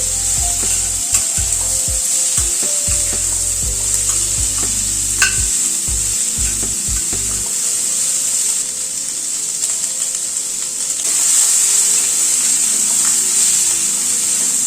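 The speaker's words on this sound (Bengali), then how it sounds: "দিয়ে এবার একটুখানি পেঁয়াজটাকে ভেজে নিচ্ছি এর সাথে।" Large-cut chopped onion frying in a pan for an arhar dal, with a steady bright sizzle throughout and a series of low knocks and scrapes from stirring early on. No one speaks.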